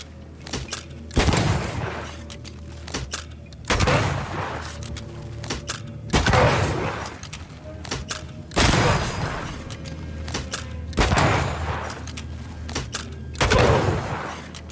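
Rifle gunfire in the video game Banishers: Ghosts of New Eden, with about six loud, booming shots fired singly at roughly even intervals, each one followed by a short rumbling tail.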